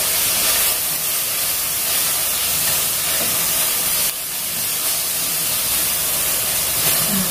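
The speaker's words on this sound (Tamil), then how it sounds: "நல்லா பச்சை வாசனை போகிற வரைக்கும் நம்ம இதை வதக்கணும்" Masala sautéing in a pan for mutton curry gives a loud, steady, hissing sizzle that continues unbroken throughout, with no voices.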